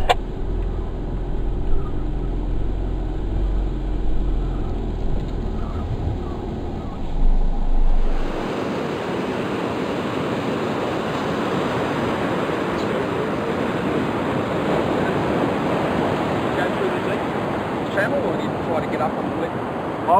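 Surf washes onto a beach as the tide goes out, with a steady broadband rush of breaking water and wind. A low engine-like rumble is heard early on, and the water continues alone after it stops.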